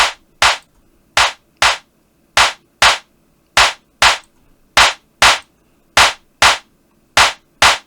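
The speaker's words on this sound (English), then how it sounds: "So here's what they sound like on a clap sample." A clap sample run through the Triaz drum plugin with crunch and punch saturation: sharp, loud, dry claps repeating in an even rhythm, mostly in closely spaced pairs with brief silences between, heard alone.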